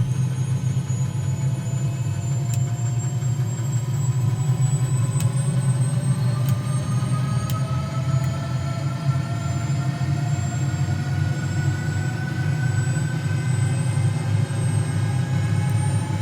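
A Bell 206 helicopter's turbine idles and warms up in Microsoft Flight Simulator: a steady low rumble under a thin whine that slowly climbs in pitch, continuous and close, with no talking.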